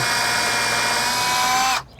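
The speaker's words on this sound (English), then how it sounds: "So I'm going to use an eighth inch drill bit and go straight up into the next one" A power drill with an eighth-inch bit boring into wood, a loud steady high-pitched whine for under two seconds before the motor cuts off abruptly.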